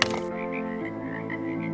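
An animated frog croaks by a pond, a single short low croak followed by a sustained buzzing, throbbing call, near and clear with no talk.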